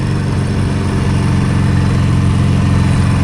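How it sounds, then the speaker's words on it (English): An old Harley-Davidson Sportster motorcycle engine runs loud and steady throughout, a throbbing low rumble with constant wind roar from riding on an autumn road. "Sportster, by the way, is running absolutely awesome."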